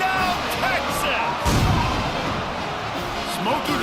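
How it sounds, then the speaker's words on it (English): Smokey the Cannon booms once after a Texas Longhorns touchdown in the College Football 25 video game, a deep blast over a loud, roaring stadium crowd with commentators talking. "Smokey the Cannon, not the only one using explosives around here, and it has electrified this Longhorn crowd."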